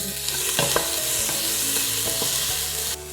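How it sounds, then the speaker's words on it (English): Onions sauté in smoking-hot oil with a loud, continuous sizzle and crackle, broken by a few sharp scraping stirs of a utensil against the pan. "The oil is already smoking, so now we can add the onions and saute them."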